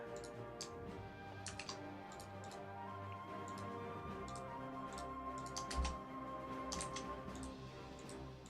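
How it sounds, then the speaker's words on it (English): Typing on a computer keyboard, with faint, uneven bursts of clicking keystrokes over a steady low hum. "God, I suck at typing, dude."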